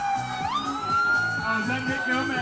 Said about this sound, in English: Probably hear an ambulance right now.